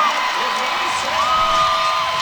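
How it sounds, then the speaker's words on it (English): A full gymnastics-meet crowd at a Florida Gators home meet does the gator chomp together, a loud, sustained roar of cheering and whooping with high shouts throughout. "That was a loud gator chomp because the entire crowd did it with her"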